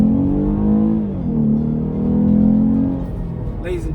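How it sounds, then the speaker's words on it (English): A 2021 Lexus IS350 F Sport's V6 engine pulls hard at full throttle, its tone rising steadily through the revs, dipping briefly at a shift and climbing again, loud and close, ending in a short burst of noise. "That is what an engine is supposed to sound like"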